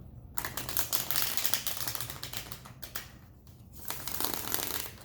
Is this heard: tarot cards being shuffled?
yes